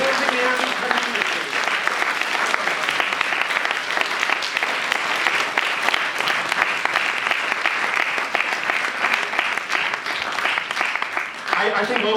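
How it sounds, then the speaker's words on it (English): Students and staff at a school Easter assembly give a sustained, loud round of applause, a dense, even roar of clapping that carries on for over ten seconds before tapering slightly at the end. "you should give yourselves a big round of applause for the end of a fantastic term"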